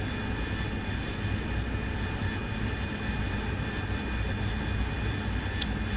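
Steady jet engine roar of an AV-8B Harrier in flight in the DCS World video game, constant and moderately loud throughout, with a thin high whine layered over the low rumble; no talking.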